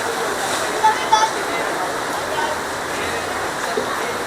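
Heavy rain pouring down, a constant dense hiss that fills the whole stretch, loud and near, with a couple of faint short voices briefly audible over it.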